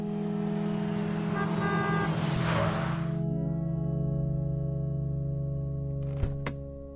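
A big car arrives in a Marathi TV serial scene: broadband engine and music-like drone for three seconds, then a steady low hum with a sharp horn toot near the end.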